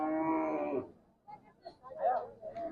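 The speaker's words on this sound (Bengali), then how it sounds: "এইটা আপনার ষাঁড় গরু।" A bull lows at a village cattle market, one long moo up close, followed by quieter crowd chatter and market noise.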